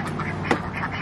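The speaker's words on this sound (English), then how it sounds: "I do have the ducks in here" Ducks quack repeatedly and close by in a chicken coop under construction, where their big pool sits, with one sharper, louder call near the middle.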